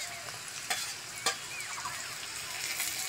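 Vegetables with green chilli stir-frying in a pan for homemade chow mein, a soft continuous sizzle with a couple of sharp utensil scrapes and clinks along the way.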